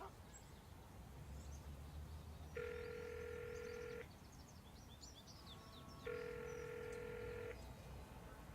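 Two long electronic ring tones pulse at even intervals as a telephone call is placed in the point-and-click game Broken Sword 5, with a quiet ambient bed and faint birdsong behind.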